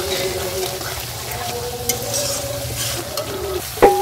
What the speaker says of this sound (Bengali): তো মশলাটা ভালো করে কষিয়ে নিচ্ছি আমি একটু